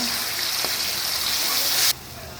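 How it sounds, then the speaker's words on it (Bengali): Water poured into a hot pan of fried onions with ginger and garlic paste gives a loud, steady hiss and sizzle that cuts off abruptly near the end, leaving quieter background noise. "এখানে পানি অ্যাড করে দিব"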